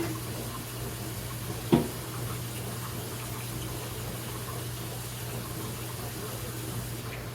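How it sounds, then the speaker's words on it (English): Tap water runs steadily in a home kitchen as hands are washed beneath it, a continuous broadband rush with a single brief knock partway through and no talking. "And I'm going to wash my hands."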